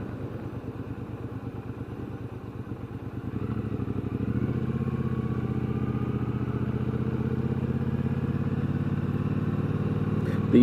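Bobber motorcycle engine under way, a steady throbbing drone that steps up in load and loudness around the fourth second and holds a constant, loud, close rumble to the end with no talk.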